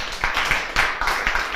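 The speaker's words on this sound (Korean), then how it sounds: "여기에서 박수를 쳐야 돼." Audience clapping during a Buddhist dharma talk by a monk, a short burst of loud, dense applause close by that swells in a few quick waves.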